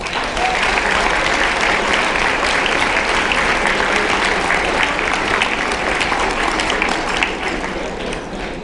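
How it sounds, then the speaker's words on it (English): Sustained, dense applause from a large audience at a conference closing ceremony, steady and loud throughout with no break and no voices standing out. "please give them a round of applause"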